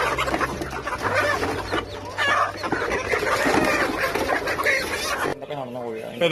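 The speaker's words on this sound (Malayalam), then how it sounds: "അത് നമ്മുടെ നാടൻ കോഴി അല്ലേ നാടൻ പുള്ളി" Native chickens cluck and squawk close by as people talk over them, the birds' calls continuing steadily in the background of the conversation.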